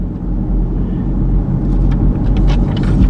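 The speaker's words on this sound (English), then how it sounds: "Now at this point, I'm just going to drive into the city center" A car driving into a city center with a loud, steady engine and road rumble close by and rising tyre and wind hiss near the end. No voices.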